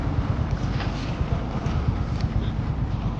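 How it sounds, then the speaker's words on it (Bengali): A boat passes by a river ghat, a low steady engine rumble under loud wind buffeting the microphone, continuous and fairly close for a few seconds. "দেখো বোট যাচ্ছে"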